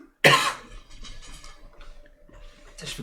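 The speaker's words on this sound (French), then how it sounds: "Je fais que tousser." A person coughs: one loud, sharp burst at first, then softer throat rasps and breathy sounds, ending with another short cough close to the microphone.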